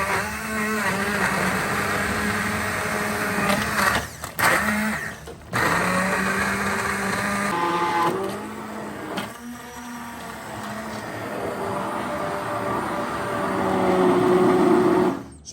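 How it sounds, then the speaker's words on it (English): An old hand blender whirs steadily while pureeing honey roasted carrot soup, its motor a loud, continuous whine with a few short dips and pauses as it is lifted or repositioned. "Use the old hand blender in this one."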